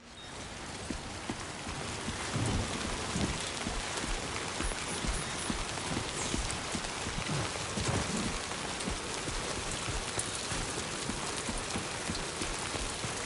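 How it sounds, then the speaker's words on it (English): Steady rain falls in the video game Death Stranding 2, a dense even patter on surfaces that stays soft and constant throughout with no voices. "And of course it's raining."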